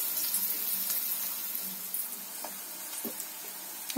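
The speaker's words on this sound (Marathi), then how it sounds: "आता कांदा भाजसपर्यंत जरा हे मिक्स करून घेऊ" Onions fry and sizzle in a pan over a wood-fired clay stove while being stirred, giving a steady, close hiss with faint scraping taps and no talk.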